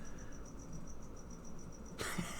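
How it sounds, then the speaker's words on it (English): Crickets chirp outdoors in a steady, rapid pulsing rhythm, faint and continuous in the background, with a short rustle or bump near the end. "The crickets are throwing me off."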